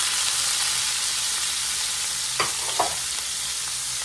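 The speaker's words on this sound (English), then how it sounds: "Saute our onions and our mushrooms a little bit in these drippings." Onions and mushrooms sauté in beef drippings in a pan, giving a steady, loud frying sizzle with a couple of brief stirring clicks and no talk.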